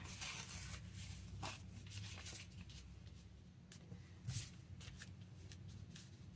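Paper torn by hand into wiggly strips for junk journal ephemera, a close, soft rustling and ripping that runs in short bursts over a steady low hum.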